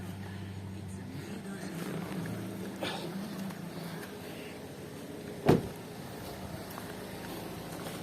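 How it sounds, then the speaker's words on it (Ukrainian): A 2009 Mazda 6 1.8 engine running on petrol at a steady low idle close by, with a brief knock or thump partway through and faint movement around it. "Зараз працює автомобіль на бензині"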